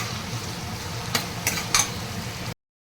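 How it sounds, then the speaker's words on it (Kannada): Sliced onion with ginger garlic paste sizzles steadily in a pan for masala rice bath, with a few sharp scrapes of a spoon stirring near the end before the sound cuts off. "ಅದ್ರ ಜೊತೆಗೆ ನಾನು ಶುಂಠಿ ಬೆಳ್ಳುಳ್ಳಿ ಪೇಸ್ಟ್ ಹಾಕಿ ಚೆನ್ನಾಗಿ ಕೈ ಆಡಿಸ್ತೀನಿ"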